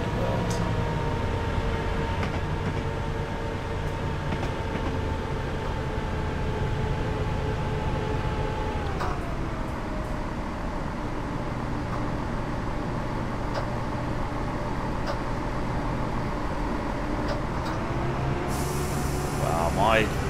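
A train rolls along in Train Simulator 2015, a steady rumble with a sustained tonal whine that dips in pitch as the train slows, continuous and close throughout.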